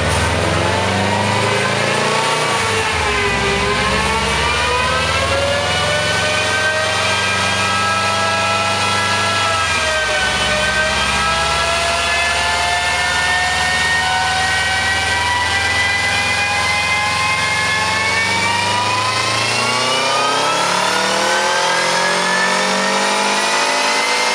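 A 2002 Subaru WRX with a TD04 turbo and 260k miles revs hard on a dyno, its engine note rising steadily in long wide-open-throttle pulls, loud and close with no talking.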